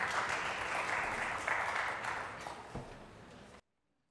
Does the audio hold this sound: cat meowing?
no